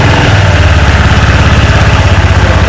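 Aveta Nova 160 scooter engine idling nearby, a steady low even chugging throb with no other sounds.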